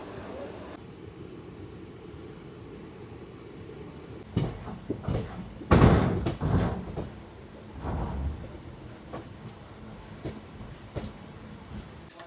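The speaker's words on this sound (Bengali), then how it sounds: "আজিমগঞ্জ যাওয়ার কাটিয়ার এক্সপ্রেস ঢুকলো 3 নম্বর প্ল্যাটফর্মে" Katihar Express bound for Azimganj rolls into platform 3 at Azimganj railway station, a steady low rumble broken by several louder clanking, screeching bursts midway before settling back.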